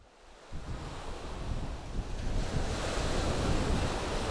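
High sea waves wash onto the beach at Leato in Gorontalo, a steadily building roar of surf mixed with strong wind buffeting the microphone.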